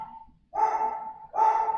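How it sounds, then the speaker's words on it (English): Two short bursts of barking from dogs indoors, the first brief and fainter, the second closer and louder, with a pause between them and no talk. "Excuse the dogs, just barking."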